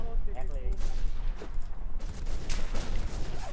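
Sustained gunfire in a shooting video game rattles continuously as a dense, loud barrage, with a voice heard briefly at the start.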